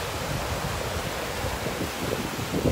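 Wind blowing across a beach in North Naples, Florida, a continuous rushing buffet mixed with surf, with gusty bursts of microphone rumble toward the end.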